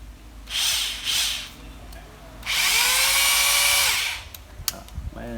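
A Bosch 36V cordless concrete drill whines in short bursts, two brief revs followed by a longer sustained run with pitch shifting as it winds down, loud and close in a quiet room.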